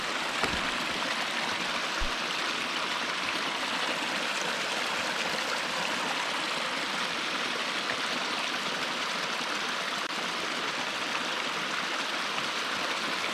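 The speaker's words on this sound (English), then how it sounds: "There's little waterfalls all the way down till you get to the bottom." Small waterfalls stepping down a mountain stream along a hiking trail, a steady broadband rush of water running continuously and fairly close, with no talk over it.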